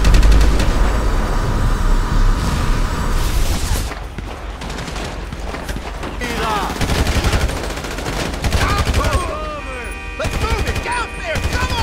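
Loud, dense gunfire in the video game GTA V, with rapid automatic bursts and single shots mixed with impacts and clanks. Heavy rumbling lies underneath the shooting.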